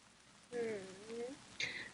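Rain falls steadily in an outdoor scene, a soft, faint hiss running throughout while a voice briefly speaks over it.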